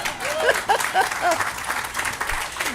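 Press conference audience for the Green Heart Project clapping briefly, a light patter of hands beneath a few overlapping voices.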